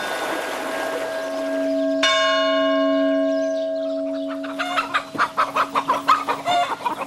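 Roosters bred for fly-tying feathers crow at a farm in Lozère: one long, loud, close crow is followed by a run of rapid, rhythmic clucking.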